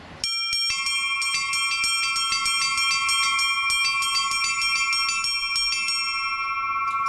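Rapid, continuous pealing of small church bells rung by hand with ropes, bright ringing tones overlapping in a steady flurry, close and loud with no voices.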